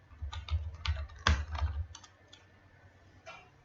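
A computer keyboard clatters with a short burst of rapid keystrokes as a command is typed, one sharper key hit standing out near the middle, then a pause and a lone final tap, close and fairly quiet.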